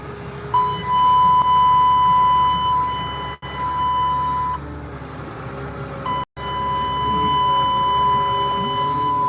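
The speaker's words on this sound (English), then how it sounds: "Don't mind that annoying beeping." A steady electronic beep tone repeats in long sustained stretches over a loud rumbling engine drone of a vehicle warming up, broken by brief dropouts.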